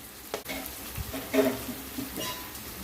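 Onions fry with green chillies in a pan toward golden colour, a close, continuous sizzle punctuated by a few stirring knocks and scrapes.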